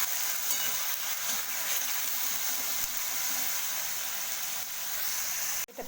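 A chilli, garlic and onion paste sizzles steadily in oil in a frying pan, a close, even hiss that holds throughout, with a brief clatter at the end.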